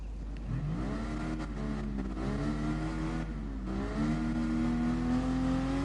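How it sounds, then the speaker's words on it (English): A car engine in a PS4 racing game revs in repeated rising sweeps, climbing in pitch and falling back several times before holding a higher steady whine, loud and close with no talk over it. "Listen to the engine rev."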